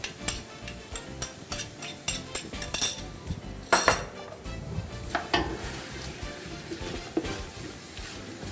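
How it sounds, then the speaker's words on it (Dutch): Bacon, onion and garlic frying in a pan for goulash soup as they are stirred, a steady sizzle under repeated clinks and scrapes of a utensil against the pan, close and with no talking. "Doe weer goed roeren alles."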